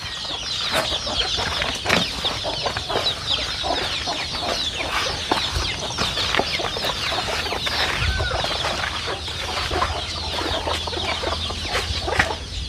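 A flock of native country chickens (nati koli) on a village farm cluck and squawk continuously and densely, with bursts of wing flapping throughout, close and steady without any voices.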